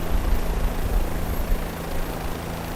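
Bell 407 helicopter, a HEMS medical helicopter, with its engine and rotor at takeoff: a steady, loud turbine whine over a throbbing low rotor pulse, continuous and close.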